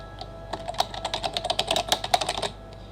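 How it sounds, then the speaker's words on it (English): An address being typed on a computer keyboard: a quick, steady run of light key clicks lasting a couple of seconds, close and clear against a quiet background. "we begin by typing in the address"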